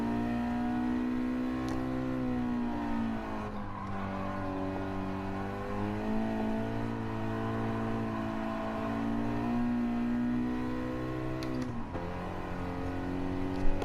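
A car's engine holds high revs in second gear on a time trial lap at Streets of Willow, a steady, droning whine that rises and dips slightly through a corner, heard from inside with no talk.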